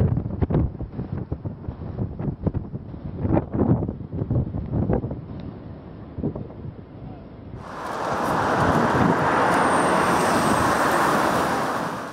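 Strong, gusty squall wind tears across a city, starting as busy broadband rumble with scattered knocks and then swelling into a loud, steady roaring blast for the last few seconds, with no voices.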